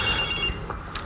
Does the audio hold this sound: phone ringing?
yes